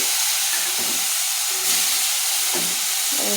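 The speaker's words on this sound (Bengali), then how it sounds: "কড়াই আমার গরম হয়ে গেছে, আমি এখন তেলটা দিয়ে দিলাম" Oil hits a hot wok with a loud, continuous hiss that fills the whole moment, along with a few faint knocks and scrapes beneath it.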